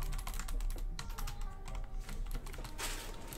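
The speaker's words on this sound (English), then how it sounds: "So this is what my old keyboard sounds like." Typing on an old computer keyboard, a dense, continuous run of close key clicks and clacks lasting a few seconds, with no voices.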